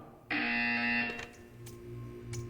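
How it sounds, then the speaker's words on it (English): A loud, harsh electronic buzzer in the video game Portal 2 starts abruptly and holds steady for under a second before cutting off, followed by quieter hum and faint clicks. "When you hear the buzzer, stare at the art."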